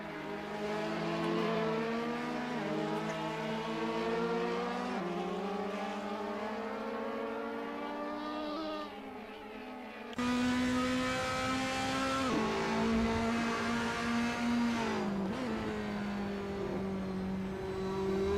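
Race car engine on board at Imola in a racing video game: a loud, continuous high-pitched engine whine that climbs and drops with gear shifts, with a brief dip in level midway and no talking.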